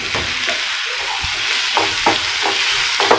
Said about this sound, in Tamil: இதையும் இதில் நல்லா போட்டு வதக்கிக்கலாம்